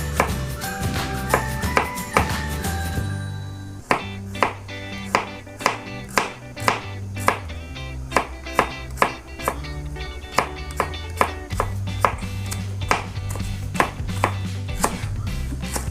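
Garlic is chopped on a board with a knife, a fast run of sharp, regular close taps that keeps going without a break and with no talk, after a brief tonal passage at the start.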